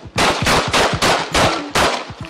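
Gunfire from police footage: six sharp, loud shots in a rapid, roughly even sequence, each a hard crack with a brief decay, nearby and without talking.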